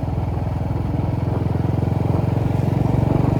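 A Royal Enfield Classic 350 motorcycle engine putters steadily at low revs while riding, a close, continuous throbbing rumble with no one speaking.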